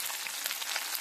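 Chopped onion and green chilli fry in hot oil with bay leaves in a pan, a steady, close sizzle filling the whole moment with no voices.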